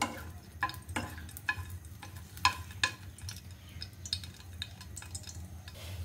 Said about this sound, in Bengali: শুকনো মরিচটা ভাজা আমার হয়ে গেছে